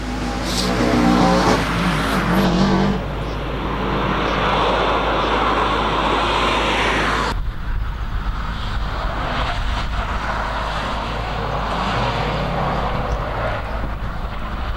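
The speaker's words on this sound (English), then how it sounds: "We see the WRX now of Matthew Wakefield making its way out of the hairpin" A Subaru WRX hillclimb car powers out of a hairpin at the Legend of the Lakes Hillclimb, its engine roaring continuously, with an abrupt change in tone partway through before the drive carries on.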